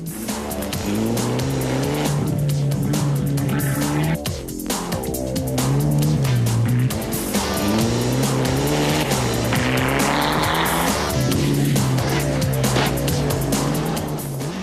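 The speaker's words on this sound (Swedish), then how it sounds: "det var när jag körde ner från Störtorpsbacke med bil" A rally car drives down the Störtorpsbacke ski slope, its engine roaring steadily and close throughout, with repeated rev surges as gears change and tires scrabbling and squealing on the surface.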